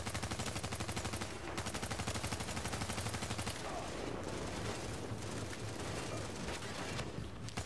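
Gunfire aimed at a sniper in a PS4 shooter, loud sustained rapid automatic bursts filling the whole stretch with barely any pauses, while a player talks underneath.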